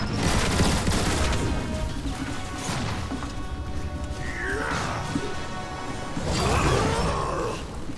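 Gunfire and crashing impacts in the video game War for Cybertron, heavy bursts and smashes under music with a few whooshing effects.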